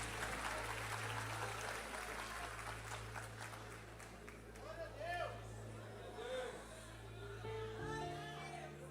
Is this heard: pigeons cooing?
no